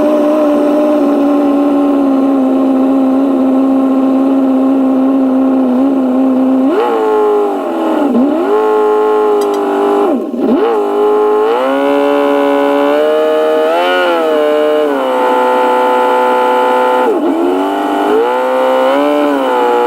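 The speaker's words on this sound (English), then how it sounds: "we're gonna fire it up and run it for a little bit, just to make sure everything is right" An LS V8 engine swapped into a Porsche 944 runs loud and close, a steady idle drone that turns into a string of revs rising and falling over twenty seconds, with no voices.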